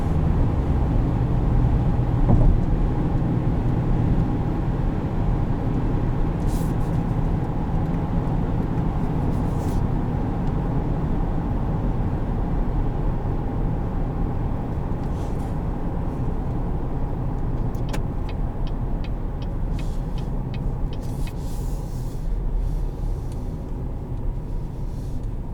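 Inside a 2020 GMC Canyon Denali pickup under kickdown acceleration, a steady, dense engine and road rumble fills the cabin. The drone stays fairly even and continuous throughout.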